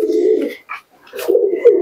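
Domestic pigeons (Giribaz breed) cooing up close in two soft, throaty bursts with a short pause between them.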